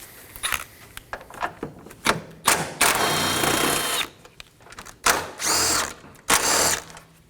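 A power ratchet or drill spins out 10mm bolts from the engine cooling fan crossbar of a 2011 Dodge Durango 5.7L V8, in short whirring bursts with brief pauses and clicks between them, close up.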